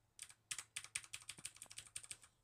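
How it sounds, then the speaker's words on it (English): Rapid, crisp keyboard typing: a run of light plastic key clicks in an uneven rhythm, close up, with no talking. "I don't know if my voice is lined up with this keyboard sounds"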